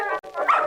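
A dog gives a short, close bark and whimper, one brief voiced burst with a tiny gap partway through.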